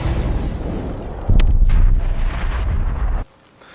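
Armored Iron Man suit from the first Iron Man film flying and breaking the sound barrier: a loud, sustained roaring rush with a sharp booming burst partway through, then an abrupt cutoff to near silence.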